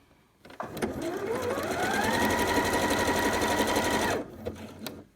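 A sewing machine stitches a test seam at stitch length 3 while sewing on a pocket. It runs up to a steady, loud whirring rattle for about four seconds, then stops, with a few soft clicks on either side.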